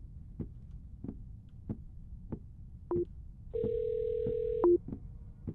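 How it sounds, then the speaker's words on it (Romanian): Quiet rhythmic ticks pulse at a steady pace, then short electronic tones and a sustained beep sound, like a phone line connecting and ringing. "Când îl sun eu, îi aud eu telefonul lui cum îi sună dacă e în apropierea mea."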